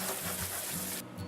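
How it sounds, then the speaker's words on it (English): Canned chickpeas being rinsed under a running kitchen tap, a steady close stream of water splashing for about a second before it cuts off abruptly near the end. "Drain and rinse a can of chickpeas"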